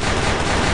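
Short burst of cartoon gunfire in an animated cooking wrestling match, a loud dense crackling blast filling the brief moment with no talk over it.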